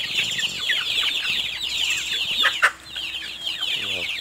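Several hens cluck and chatter continuously nearby in a coop behind a village prayer house in Kedah, Malaysia, overlapping calls with a brief rustle or flap midway.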